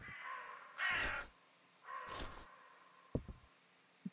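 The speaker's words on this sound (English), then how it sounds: "Damn birds, shut up." Crows caw in the video game We Harvest Shadows, two drawn-out harsh calls a second apart followed by a couple of short clicks, fairly faint over a quiet ambient background.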